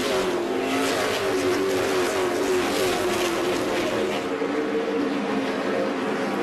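NASCAR trucks race three wide around the Eldora dirt half-mile, a loud continuous blend of roaring engines with shifting pitch as the pack passes, steady and dense throughout.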